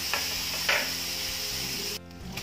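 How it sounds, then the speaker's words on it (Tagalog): Small pieces of bacon sizzle steadily in a pan while being stirred, with a few scraping knocks from the utensil and soft background music, close and clear, with no talk. "First, lulutuin muna natin yung bacon."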